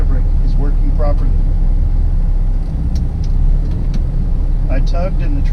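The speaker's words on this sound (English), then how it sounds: "With the transmission in gear, I will slightly release my clutch so that I'm tugging my trailer forward" A truck engine idles with a steady low rumble, then labours slightly as the transmission is put in gear and the clutch eased so the truck tugs its trailer against the trailer brake; a voice talks over it.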